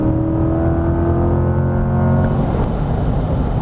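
A 2020 Chevrolet Corvette C8 accelerating hard on a racetrack, its loud engine a dense steady roar close by, building and roughening toward the end, with no talk.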